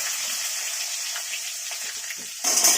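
Potatoes go into a hot pan of mixed vegetables for a Bengali labra dish, producing a steady close sizzle and frying hiss that swells louder near the end.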